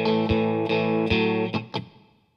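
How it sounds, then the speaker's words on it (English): An electric guitar with distortion and chorus strums a rock rhythm of eighth and sixteenth notes with a root-and-sixth chord shape, sustained chords broken by short choppy strokes, loud and close before ringing out. "that type of rhythm with some eighth notes and 16th notes"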